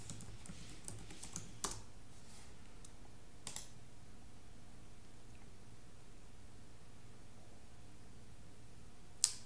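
Password being typed on a computer keyboard during a student software login, heard as faint, sparse key clicks over a steady quiet background hiss.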